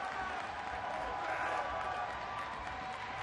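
A TNA Victory Road 2004 wrestling arena audience keeps up a loud, even roar of cheers and clapping, swelling slightly in the middle while a commentator speaks over the noise.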